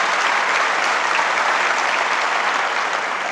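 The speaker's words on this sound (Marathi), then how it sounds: "म्हणून जोरात टाळ्या वाजल्या पाहिजे" An audience at a motivational education talk breaks into loud, dense applause, a sustained wash of many hands clapping together at close range throughout.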